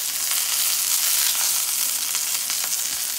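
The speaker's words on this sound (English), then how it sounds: "until they're nice and golden brown. And then I'll take them out and repeat the process until I'm finish frying all the fish" Hot oil sizzles and crackles steadily as grey snapper fries until golden brown, a dense, continuous hiss with small pops scattered throughout.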